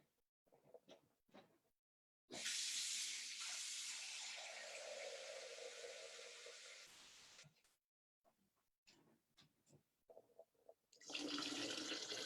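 A tap runs for several seconds in a loud, steady hiss of water, then cuts off; a second burst starts near the end, with quiet handling knocks in between.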